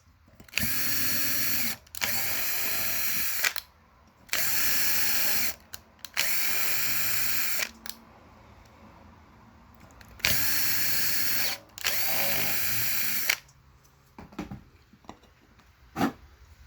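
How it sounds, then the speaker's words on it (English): Power tool whirring in repeated bursts of about two seconds each with short pauses between them while holes in a thermoelectric module assembly are threaded, loud and close, with quieter clicks and handling noise near the end and no speech. "we have to tap each hole with a threaded tap"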